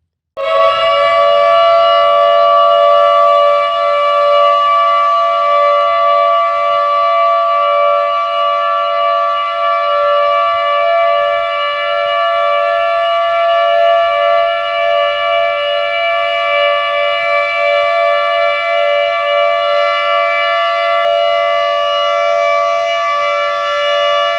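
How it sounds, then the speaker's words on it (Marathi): A civil defense siren sounded by the municipal corporation at 10:59 for Mahatma Gandhi's death anniversary, a loud, sustained steady wail holding one pitch for over twenty seconds, alone with no voices. "यावर्षी सुद्धा 10:59 सायरन वाजवण्यात आले"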